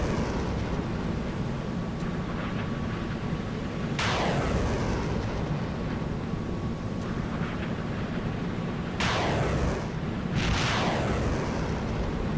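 Otomat Mark II anti-ship missiles launch from an Italian Bergamini FREMM frigate in Sea Power, a series of sharp blasts spaced a few seconds apart, each trailing off into a roaring whoosh over a steady low engine drone.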